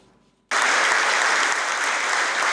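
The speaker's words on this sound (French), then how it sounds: "Un tonnerre d'applaudissements dans cet amphithéâtre de l'École nationale d'administration" Applause erupts suddenly in the amphitheatre of the National School of Administration after a short quiet moment, becoming a dense, loud, sustained clapping from a large audience that keeps going to the end.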